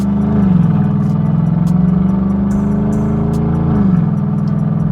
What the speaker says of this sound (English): Some turbo spool.